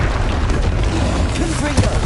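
Bombarda spell blasts in the Hogwarts Legacy video game, booming low explosive bursts amid dense combat noise, with a voice shouting spell names over the rumble.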